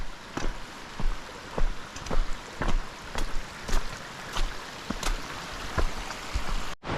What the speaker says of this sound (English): here's the creek that drains out of Lipsey Lake and is what Otter Falls goes over.